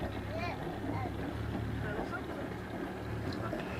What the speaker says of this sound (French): on tracte le filet à 2 nœuds dans le sens de la houle pendant 15 minutes